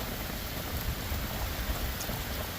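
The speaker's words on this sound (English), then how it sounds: "it is raining very, very, very hard right now" Heavy rain pours down on a cattle farm, a dense, steady hiss of countless drops drumming on surfaces, fairly quiet and even with faint low patters and no voices.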